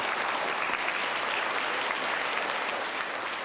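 A school audience at a Somerville Primary School award presentation bursts into dense, steady applause that fills the whole stretch, loud and close, with no voices standing out.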